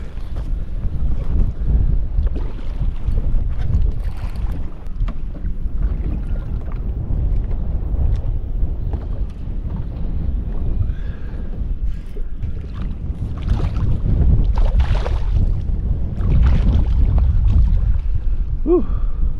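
Strong wind gusts roar and buffet the microphone without a break while redfish fishing, a heavy low rumble that swells in gusts, with faint water sounds mixed in.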